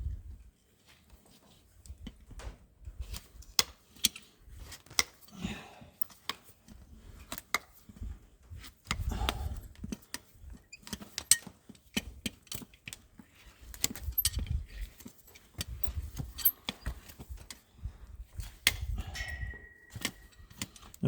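Hoof nippers cut around a horse's hoof during shoeing, working from the toe back to the heel, with repeated sharp snips and crunches, scrapes and metallic clinks, up close and with no talk.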